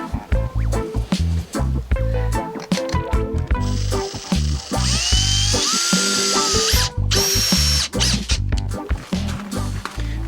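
A power drill drives screws into an alder wood rail for a camper van slide-out dining table: loud, close bursts of whining motor that rise and stop repeatedly, with one longer sustained run midway.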